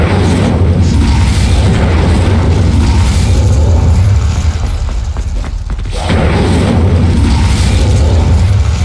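Incendio fire spell cast in the Hogwarts Legacy video game: a loud, sustained roaring blast of flame with a deep booming rumble that briefly dips before surging again.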